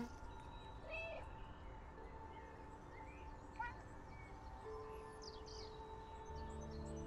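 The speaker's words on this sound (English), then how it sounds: "And I'm the one meowing." A cat meows a couple of times in the video game Stray, amid a steady ambient backdrop with faint bird chirps and a low hum.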